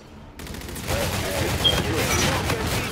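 Rapid bursts of gunfire in a first-person shooter match, a dense crackle building after a quiet start and continuing steadily, with a player's voice talking over it.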